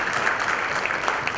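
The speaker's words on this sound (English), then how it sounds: "Let's welcome him with a huge round of applause." Steady round of applause from an audience at a teen hero awards event, dense clapping held at an even level throughout.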